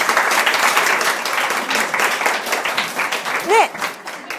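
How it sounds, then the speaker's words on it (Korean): A church congregation applauds to welcome a guest seated toward the back. The clapping is sustained and close, and a brief voice cuts in near the end. "박수 부탁드립니다"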